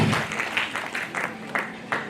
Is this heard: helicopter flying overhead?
no